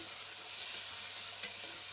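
Aubergine, potato and onion sizzling in oil while being stirred, a steady close-up hiss of frying with a soft clink near the end and no talk.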